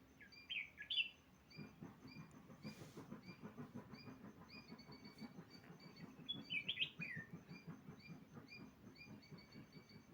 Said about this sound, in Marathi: बघा हा आहे रानकोंबडा.